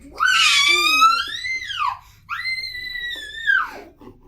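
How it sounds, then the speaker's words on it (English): A young girl screams in two long, loud, high-pitched wails, the first rising then falling, a short gap, then a second sustained shriek tapering off, heard close in a family home. "That was a scream."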